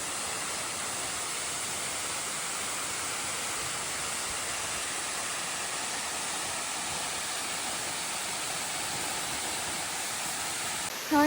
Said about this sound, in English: It's honestly probably one of my favorite waterfalls.